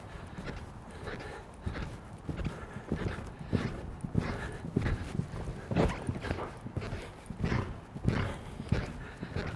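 Horse hooves walking at a steady pace, a soft irregular clip-clop moving along at moderate distance, with faint voices in the background.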